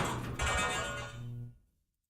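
Household metal sound effect for a cyberspace-themed Godot game: a bright metallic clang with ringing overtones that rattles briefly and then decays into silence.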